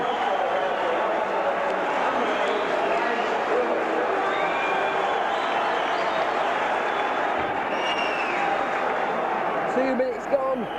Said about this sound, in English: it's the Warrington fans who are starting to cheer first